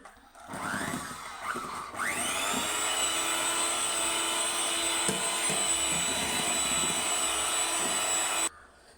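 Electric mixer beating red velvet cake batter after oil is added, a loud steady whine that starts after a few brief bursts and runs evenly for several seconds before cutting off abruptly.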